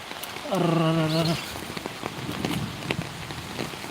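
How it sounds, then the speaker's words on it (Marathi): Rain falling outdoors near a river, a steady diffuse patter throughout, with a brief harmonic tone or call rising early on and a few louder splashy ticks. "पाऊस आलेला आहे"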